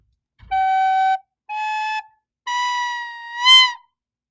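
Recorder sounding four short separate notes with a thin, uneven tone. The last note overblows into a shrill, squeaky wobble, played alone and close.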